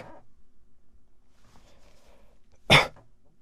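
A single sharp, forceful cough, made on purpose to engage the breath support muscles, comes after soft breathing and faint background noise.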